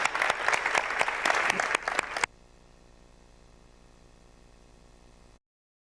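Loud applause from a crowd, dense clapping that stops abruptly after about two seconds, leaving only a low electronic hum.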